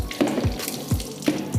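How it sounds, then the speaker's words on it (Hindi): Water poured from a mug onto a bike engine makes short splashing, sizzling bursts that repeat a few times, quiet and close. "आपको बाइक के इंजन में ऐसे पानी को डालना है"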